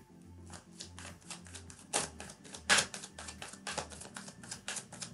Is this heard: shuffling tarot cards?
yes